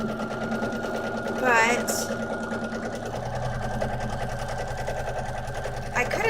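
A sewing machine stitching with a very short stitch length, its rapid even mechanical whir running continuously and close, with a brief spoken word and a couple of small clicks over it.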